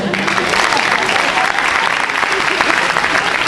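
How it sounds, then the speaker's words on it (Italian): An audience claps steadily at a school performance, honouring a principal about to retire; dense, loud applause fills the room without a pause, with murmuring voices mixed in. "salutarlo con un applauso per la sua imminente pensione e per il suo meritato riposo"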